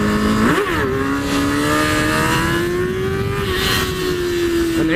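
A motorcycle engine revs hard and steady at night during a wheelie, its pitch swinging up sharply then holding high and loud, close by with no talk.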